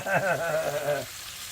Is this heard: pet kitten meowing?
no